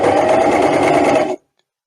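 Sewing machine stitching a hem on travel jersey fabric, a fast, steady mechanical whir running close and alone for just over a second before stopping abruptly.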